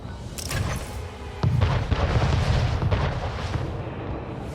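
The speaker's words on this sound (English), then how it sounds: "All batteries open fire." Cannon batteries on warships firing in a naval battle in Anno 1800, heard as heavy booming blasts that roll into one dense, continuous barrage. The volume rises partway through and stays loud.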